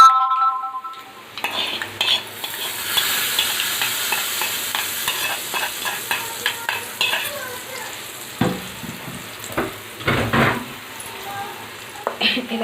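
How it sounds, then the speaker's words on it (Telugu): Mustard seeds, cumin and chana dal sizzle and crackle in hot oil as a tempering for coconut-peanut chutney, with a steady loud fry, sharp pops and occasional clinks of a spoon against the pan. "తీసిన పోపులు ఎగిపోయినాయి అంటే కొంచెం తాలింపు పెట్టేసుకున్నాము"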